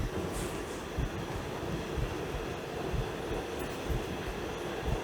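A stage sound effect of a running train gives a steady, rumbling rhythmic clatter with no break and no voices.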